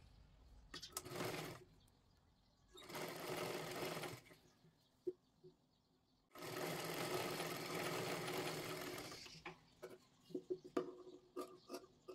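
A sewing machine stitching a blouse runs in three bursts, short, then longer, then the longest, whirring steadily close by, with quiet pauses and small clicks of handling between runs.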